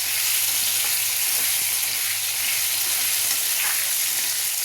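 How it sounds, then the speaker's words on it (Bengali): Potatoes fry in oil with turmeric and salt, a dense continuous hiss of sizzling, close and steady, without any voices. "আলুগুলো একটু হলুদ দিয়ে ভেজে নেব।"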